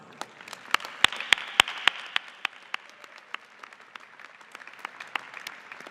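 Sparse applause from a graduation ceremony audience, individual claps sharp and distinct, louder at first and then thinning into scattered, fainter clapping.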